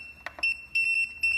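Short electronic buzzer beeps, a quick pair followed by longer steady tones, loud and close with a faint low hum underneath.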